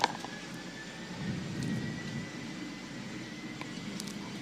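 Aircraft engine drone during a takeoff roll down a runway, a steady broadband roar with a faint whine held evenly throughout, no talking.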